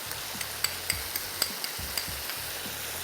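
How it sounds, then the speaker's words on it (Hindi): Soy sauce and ketchup are stirred together in a pan while cooking halwa, with soft repeated scrapes and light taps over a faint sizzle and no one talking. "मैं इसको थोड़ा मिक्स कर रहा हूँ"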